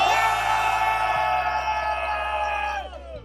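A group of drone racing pilots yells together in one loud, sustained shout that holds for about three seconds and then fades out, with music playing underneath.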